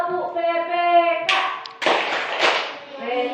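A class of Indonesian schoolchildren claps along in a rhythmic tepuk PPK chant, with a teacher's voice first and then bursts of loud group clapping and chanting voices close by.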